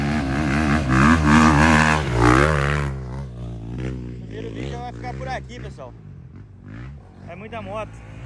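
A Honda CRF250F dirt bike engine revs and roars up close on a muddy hill trail, loud and droning at first and then easing off, while someone talks over it.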